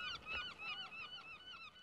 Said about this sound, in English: Birds! Right!